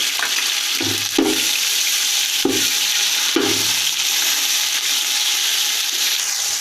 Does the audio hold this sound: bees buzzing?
no